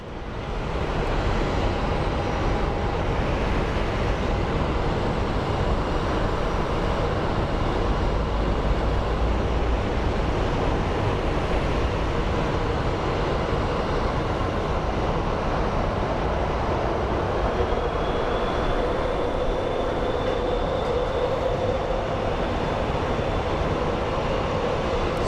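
Airbus A350 airliner at Phoenix Sky Harbor airport, a steady, broad, distant roar holding at a constant level throughout with a faint rising whine late on, no voices.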